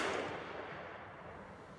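A standard 7.62x54R rifle round fired outdoors, a single sharp blast at the start trailing off into a fading rumbling echo.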